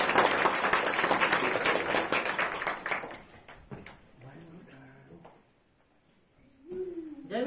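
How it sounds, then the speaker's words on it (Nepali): A church congregation at a sermon bursts into dense, loud applause that holds for about three seconds, then fades away, leaving sparse claps and a quieter voice rising near the end. "फेरि पनि तालीद्वारा"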